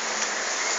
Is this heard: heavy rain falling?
yes